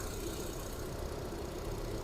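An engine of a used car offered for sale idles steadily in the background, a faint, even low rumble with slight knocking texture and no talk over it.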